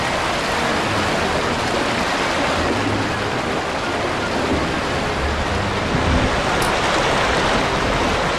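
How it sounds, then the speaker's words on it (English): Water splashing on the Wild River raft ride in the Planet Coaster video game, a loud, continuous rush of spray and churning water that stays steady throughout. "Whoa, lots of splashes."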